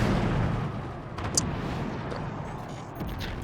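Cannon fire in the naval-themed video game Forts sounds as a sustained, rumbling barrage of low booms with a short sharp crack partway through, moderately loud and without talk.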